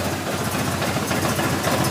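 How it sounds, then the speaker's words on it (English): A Triumph TR4 engine fitted with new SU HS6 carburettor jets idles slowly and steadily, a close, continuous low throb with no voices. "That's the engine running now with the new jets in, much slower."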